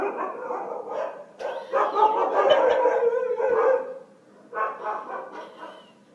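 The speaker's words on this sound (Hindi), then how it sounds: "ये मेरे गली में कुत्ते भौंक रहे हैं" Several dogs bark in a street at night, a burst of overlapping, moderately near barking and yelping that pauses briefly and then resumes.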